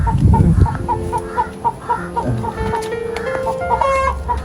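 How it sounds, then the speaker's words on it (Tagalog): Fighting roosters and chickens cluck repeatedly, with other fowl close by, their calls overlapping in a busy farmyard chorus. "Ang dami niyang manok, mga pansabong."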